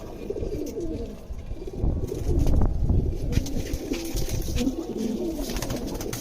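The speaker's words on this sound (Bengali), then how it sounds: "এগুলা সব নর কবুতর গুলা আর সাইডে আছে মাদি কবুতর গুলো" A loft full of male and female pigeons coos in a dense, continuous chorus of overlapping low, throaty calls, close and steady throughout with no voices.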